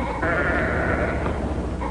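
Sheep bleating close by in a farm setting, one steady, wavering bleat lasting about two seconds over low background noise.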